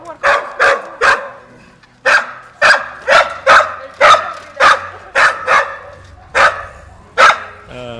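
A dog barks loudly and close by, about a dozen sharp barks in a steady rhythm with one short pause partway through.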